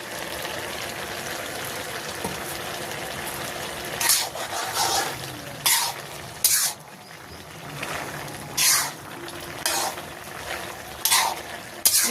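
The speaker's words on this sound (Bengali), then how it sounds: "আমি এখন মাছগুলো দিয়ে দেবো, ভাজি মাছ লেঠা।" Snakehead (lethe) fish frying in a pan with pumpkin greens, a steady sizzle broken by louder bursts of spattering and stirring as the pieces go in.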